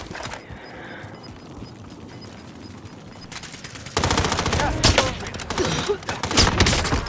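Rapid bursts of gunfire in Call of Duty Warzone, loud and close, come in dense clusters during the second half after a quieter stretch of game ambience.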